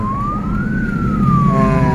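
Siren on an escort vehicle accompanying an ambulance on a congested road, wailing up and then down in pitch, loud and close over a rumbling engine.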